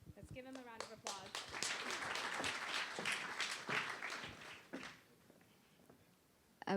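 A crowd applauds with dense, sustained clapping for several seconds, then it fades out.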